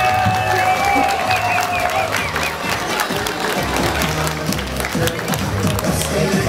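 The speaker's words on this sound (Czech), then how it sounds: "Zaslouží si potlesk" Crowd at an outdoor market fair's tripe-eating contest claps and cheers for the ten contestants, a loud continuous roar of applause with shouts, while an announcer's voice carries over it.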